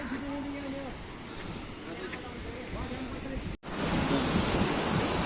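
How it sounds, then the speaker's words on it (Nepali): Water roars steadily from the Rupse waterfall on the way to Mustang, a loud, broad wash that swells louder partway through, with some talk faintly audible beneath it. "अहिले हामी यहाँ रूप्से झरनामा पुगेका छौँ"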